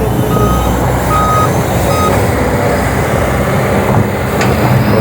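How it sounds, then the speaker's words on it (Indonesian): A truck at a bridge-demolition and road-concreting site gives loud, evenly spaced reversing beeps over a constant heavy engine rumble. "Truk lagi yang tadi habis bongkar jembatan ya teman-teman."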